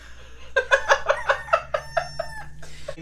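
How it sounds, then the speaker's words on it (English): A rooster crows a full, loud cock-a-doodle-doo, its stuttering syllables ringing out clearly and close by with no talk over it. "Did you hear that? I believe it was a rooster."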